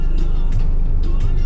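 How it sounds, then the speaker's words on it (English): A garbage truck idles on a street during trash pickup, a loud close low engine rumble that holds steady with faint rhythmic clanks on top and no talk. "There's a garbage truck."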